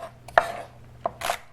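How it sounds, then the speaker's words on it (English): Knife chopping celery on a cutting board for turkey chili, a few distinct close chops with uneven gaps, the last one a longer scraping stroke, no talk. "Chopping my celery to go into this dish"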